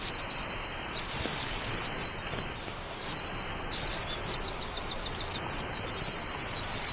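Shrill, high-pitched European cuckoo chick begging calls, mimicking a whole brood of warbler chicks, in rapid repeated bursts, loud and close, separated by brief pauses, with no other sound around them.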